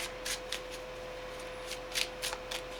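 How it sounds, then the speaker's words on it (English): A deck of playing cards is riffled and shuffled by hand in several quick bursts, close and crisp, each rush of cards followed by a brief pause, with a steady electrical hum underneath. "And I'm just going to shuffle."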